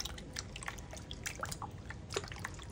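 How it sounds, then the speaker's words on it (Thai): Pork liver being washed in water, with soft irregular drips, splashes and squishy sloshing sounds close by. "เสร็จแล้วเอาตับหมูลงไปล้างเลยค่ะล้างทำความสะอาดก่อน"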